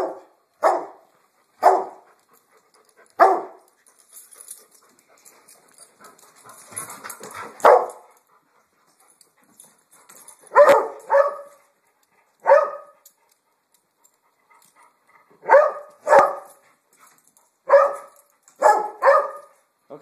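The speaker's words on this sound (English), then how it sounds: "stop barking" A dog barks in short, loud bursts with pauses between them, some sharp double barks close by and a faint whimper in a quiet gap.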